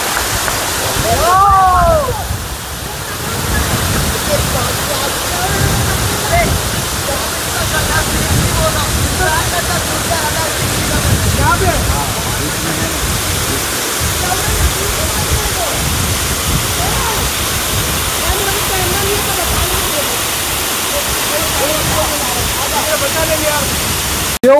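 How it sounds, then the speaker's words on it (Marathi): The Chingra Pagar waterfall in Gariaband, Chhattisgarh roars in a steady, dense wash of falling water, loud and close throughout, with birds chirping faintly near the start. "आजपर्यंतची बघितलेला सगळ्यात तगडा वॉटरफॉल आहे माझ्या"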